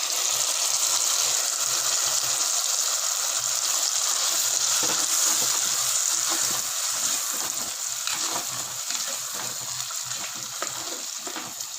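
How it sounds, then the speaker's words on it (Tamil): Ground masala for a fish curry sautés with fried garlic and onion in a pan, giving a continuous close, loud sizzle with soft stirring scrapes throughout. "மசாலா நம்ம ஏற்கனவே வதக்கி அரைச்சிருக்கிறோம், அதனால் ரொம்ப நேரம் வதக்க தேவையில்லை. ஒரு நிமிஷம் வதக்கினா போதும்."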